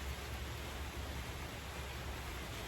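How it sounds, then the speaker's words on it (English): Steady rain falls outdoors at an evening cookout, a dense continuous hiss with no other sounds and no talking. "And of course, it started raining."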